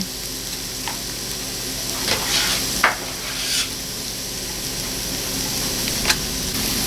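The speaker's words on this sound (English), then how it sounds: "A little bit of olive oil. Onions and garlic go in." Onions and garlic sautéing in olive oil in a soup pot give a steady sizzle, with a few soft stirring scrapes and clinks along the way.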